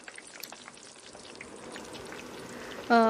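Batti dough sizzling in hot oil in a kadhai on a gas stove, a soft continuous crackle and hiss with a brief sharper burst near the end.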